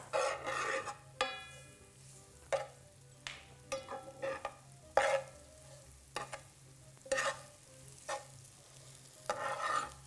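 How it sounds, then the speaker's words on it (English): Onions browning in a pan with Italian seasoning, giving a steady low sizzle broken by repeated scraping stirs of a utensil, fairly close and moderately loud, with no talking. "we want to kind of brown our onions here for about maybe 5-8 minutes or so"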